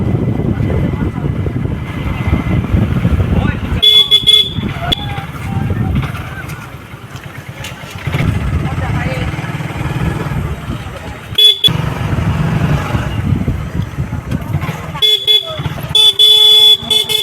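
Car driving along a road in Assam during a Basanti Puja celebration, engine and road rumble steady with repeated short horn toots and honks from nearby traffic, people talking over it.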